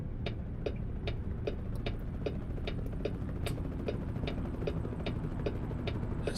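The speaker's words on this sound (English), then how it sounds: "That sounds like a chopper." A helicopter passing near a truck on the road in Louisiana gives a steady, rhythmic thump of rotor pulses over a low, continuous rumble, moderately distant and fairly even in loudness.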